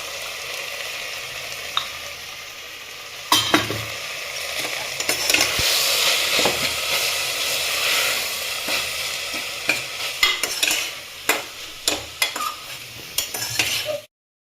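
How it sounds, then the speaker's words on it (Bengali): A spoon scrapes and clicks through chicken vegetable stew frying with spices in a pan, over a constant soft sizzle, with irregular utensil knocks growing more frequent toward the end; no talking. "এবার একটু নাড়ো।"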